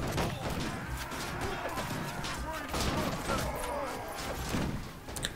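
Rapid gunfire crackles in the Perisno mod for Mount & Blade, with dense, overlapping shots and impacts running steadily through a chaotic battle, loud and close, with a voice talking over it.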